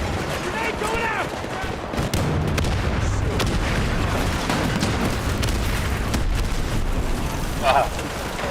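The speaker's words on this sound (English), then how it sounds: "So many explosions." Explosions and gunfire rumble nonstop through a war video game battle, with loud booms and crackling shots dense across the whole stretch, a sharp burst near the end, and voices talking underneath.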